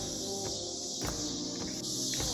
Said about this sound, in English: them cicadas, those bugs are loud